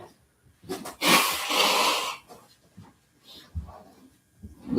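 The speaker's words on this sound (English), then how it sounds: "Hopefully, you like the sound of blowing my nose." Someone blows their nose close to the mic: a loud, breathy honk of about a second, followed by quieter sniffs and snuffling breaths.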